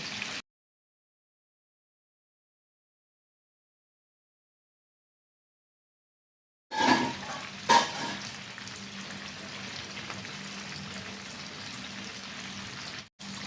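Fish frying in a pan, heard after a long silence as a steady, moderately loud sizzle with a couple of brief clatters near the start, running alone until an abrupt cutoff.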